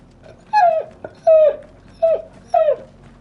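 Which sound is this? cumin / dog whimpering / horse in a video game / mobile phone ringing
dog whimpering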